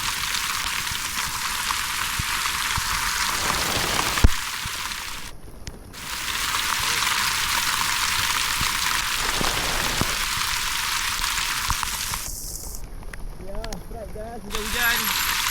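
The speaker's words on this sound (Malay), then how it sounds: "Hujan." Heavy rain drumming steadily on surfaces outdoors during a fishing trip, a dense loud hiss broken by brief drops in intensity, with a few faint clicks and some muffled sounds partly masking it toward the end.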